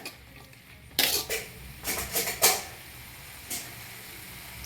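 Tajank greens cooked with salt and chilli are stir-fried in a pan over a low sizzle. A spatula scrapes and clatters against the metal in several short, sharp bursts, with quieter pauses between them.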